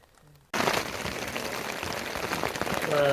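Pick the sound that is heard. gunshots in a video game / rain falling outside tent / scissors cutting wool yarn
rain falling outside tent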